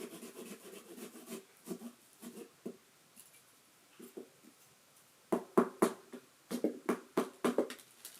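A serrated knife saws through a pumpkin in short rasping strokes, bursts of scraping coming in irregular groups with brief pauses, close and fairly quiet.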